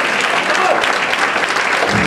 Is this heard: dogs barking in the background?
no